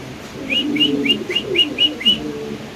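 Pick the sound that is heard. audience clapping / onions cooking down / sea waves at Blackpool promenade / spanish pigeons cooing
spanish pigeons cooing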